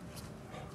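A brief, soft dog whimper, a thin high whine lasting under a second, fairly faint.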